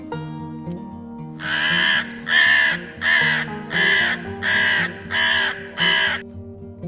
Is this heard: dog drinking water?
no